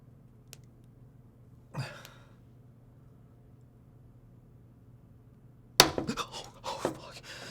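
A sharp crack from a Skylake 7940x CPU giving way while being delidded under tension, one short snap followed a few seconds later by a louder burst of cracking and crunching.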